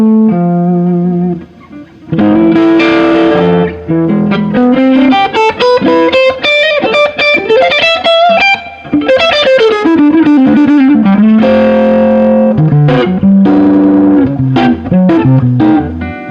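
A 1980 Ibanez Blazer electric guitar on its neck pickup with the switch engaged, playing loud distorted melodic lines and held notes that bend and slide, with effects-laden sustain and brief pauses between phrases.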